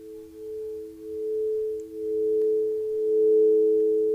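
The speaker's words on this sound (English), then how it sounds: "fed by the sound and frequencies here with the bowls" Singing bowls ringing with a sustained, smooth humming tone that swells and fades gently over several seconds, resonant and alone against quiet background during a guided meditation.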